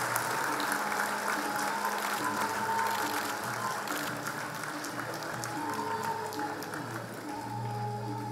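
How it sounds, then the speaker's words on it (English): Continuous applause from a ceremony crowd greeting the arriving Indonesian president and first lady, moderately loud and steady, with low droning background tones running underneath. "Join me in giving a round of applause to their excellencies."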